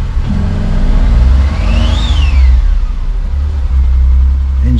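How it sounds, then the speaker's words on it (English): A rebuilt 2017 Renault Clio engine runs roughly with parts disconnected, giving a loud, close, steady rumble and a brief rising and falling whine partway through. "Engine sounds terrible because everything's disconnected"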